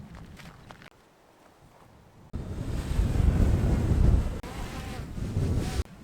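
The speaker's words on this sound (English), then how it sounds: "It's a little windy, but I think we'll be okay." Gusty wind buffets the microphone outdoors by a creek, a low steady rush that surges louder partway through and stays strong, with a few brief drops, no voices.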